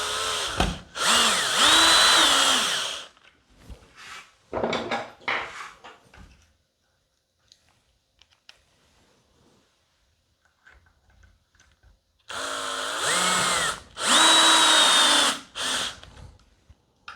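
Power drill driving screws to reattach a part on a zombie haunt prop, with long loud whirring bursts near the start and again near the end and a few short bursts between them.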